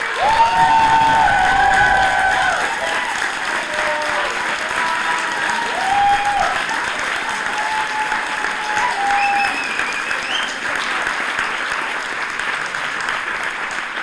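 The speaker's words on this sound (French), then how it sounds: "Et on n'a pas tout à fait fini avec les applaudissements" A theatre audience applauds after an amateur stage play, sustained clapping with some cheering that stays loud and dense throughout, while a few voices call out over it.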